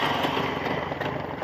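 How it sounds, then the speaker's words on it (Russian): Jawa 634 two-stroke motorcycle engine with cast-iron cylinder fins running steadily close by, a continuous buzzing drone with a fast, even pulse and no voices. "Вот он звук двигателя."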